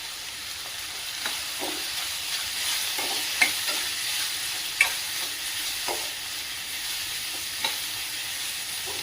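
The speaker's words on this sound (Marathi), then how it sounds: "कांदा छान असा परतून झालाय" Chopped spring onion sautéing with salt, turmeric and red chilli powder in a pan gives a soft steady sizzle, with a few sharp clicks of a spoon stirring against the pan.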